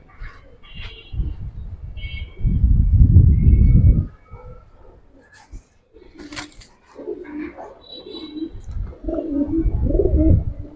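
Giribaz pigeons, a pair of red-geared stone-eyed birds, coo repeatedly at close range, with soft murmuring calls, a loud burst of low rumbling and occasional chirps, in a loft setting without speech.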